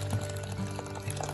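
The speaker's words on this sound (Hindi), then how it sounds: "अब ये वाला पानी मैं ऐड करूंगी" Chilled water with ice is poured into a pan of Kashmiri chai, a quiet, steady liquid splash with a few small gurgles.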